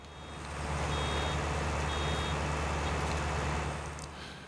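In Farming Simulator 19, a vehicle's reversing alarm beeps steadily over a loud, constant engine drone while baling straw on a field, the rumble swelling in and fading out across the few seconds.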